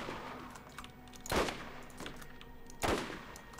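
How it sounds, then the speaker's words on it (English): Sniper rifle from the gun maker Maliwan fires in the co-op shooter Borderlands. Two sharp, loud shots land about one and a half seconds apart over a low game-ambience hum, and nobody speaks. "A sniper who shoots like more than one shot in 2-3 seconds."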